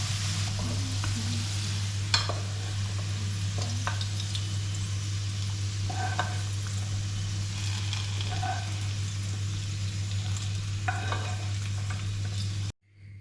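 Potatoes tipped into a pan of frying meat, carrot and onion for chanakhi, a steady close sizzle with scattered scrapes and clinks of a utensil, ending abruptly.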